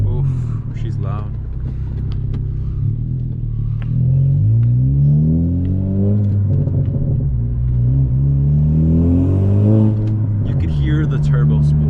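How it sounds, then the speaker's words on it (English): Straight-piped Honda Civic FK7 hatchback with a Skunk2 exhaust, engine revving up and down in repeated sweeping climbs with turbo spool, loud and close, with occasional voices in the cabin. "The turbo spool."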